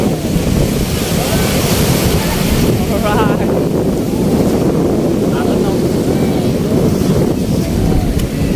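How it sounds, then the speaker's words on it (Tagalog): Ocean surf rolls in as a loud, continuous roar of waves breaking nearby, buffeted by heavy wind noise on the microphone, with a voice speaking briefly over it. "Alon."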